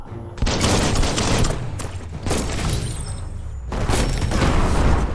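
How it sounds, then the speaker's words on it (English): Bomb lobber explosions in the video game Biomutant crash in as loud, heavy blasts, three big bursts with crackling debris trailing after each, filling the whole moment. "That's a bomb lobber. That hit the spot, wrecked it."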